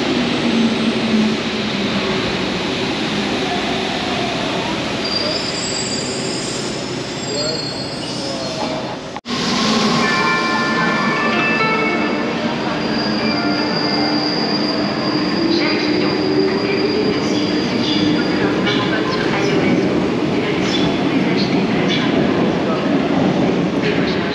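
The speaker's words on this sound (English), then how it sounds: "Our train is here." An old Paris Metro Line 7 train rolls into the station with loud rumbling and high, drawn-out wheel squeals, braking noise filling the space over a long stretch.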